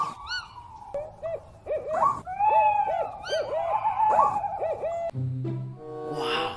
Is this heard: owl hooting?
yes